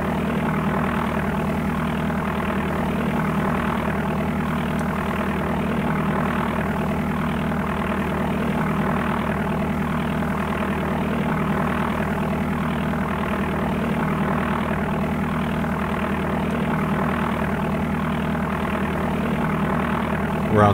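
Propeller airplane in DOS Flight Simulator 4 taxiing after landing, a steady droning engine hum with a constant low buzz, unchanging and moderately loud throughout.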